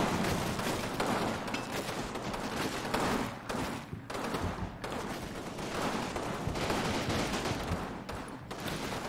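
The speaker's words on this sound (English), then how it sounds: "they'll fire along the way if they think that they have a good chance of taking down 1 or 2 guys" Sustained infantry gunfire from the Combat Mission Fortress Italy war game, rifles and machine guns firing in dense overlapping volleys and rapid bursts, loud and continuous throughout with no talking.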